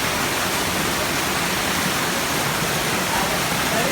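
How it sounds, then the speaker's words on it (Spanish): Water pouring steadily into a natural pool at El Salado, San Miguel Tlacotepec, a loud, unbroken rushing wash close by, with no speech over it. "Está cayendo agua, está cayendo agua y pues está chingón."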